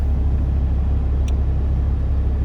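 A Toyota driving along an Arctic winter ice road at minus 40, heard from inside as a loud, steady low engine and road rumble, with a single faint tick partway through.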